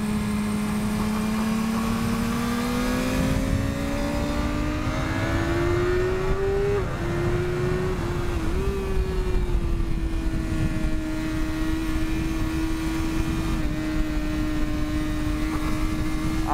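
A BMW S1000RR superbike rides laps of the Oschersleben race circuit on Dunlop tyres, its engine a loud sustained whine that climbs steadily, dips briefly on a gear change, then holds a high even drone.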